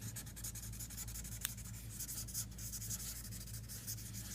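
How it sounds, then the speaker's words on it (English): A blade cutting away part of a paper stencil makes faint, close scratchy scraping strokes with one brief sharper tick midway, heard alone without talk. "So I'm going to cut that away."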